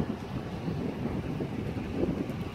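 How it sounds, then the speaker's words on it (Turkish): Strong wind gusting across a high mountain pasture in the eastern Black Sea highlands, a steady loud rushing roar buffeting the microphone with no voices over it. "Ama inanılmaz derecede esiyor."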